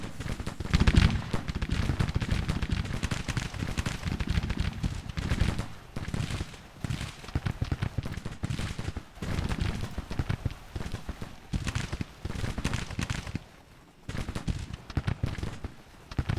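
Dense battle gunfire in the Civil War strategy game GTCW, with the Stonewall Brigade under flanking fire: continuous crackling volleys of many shots, rolling on in uneven waves with brief lulls.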